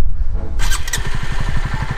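A motorcycle engine fires up and settles into a steady, pulsing idle with a rapid rhythmic chug, close and loud, during a first riding lesson.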